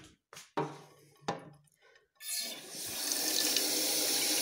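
A frying pan rinsed under a running kitchen tap: a few sharp clanks of the pan come first, then a steady, close rush of water splashing into the sink that continues to the end.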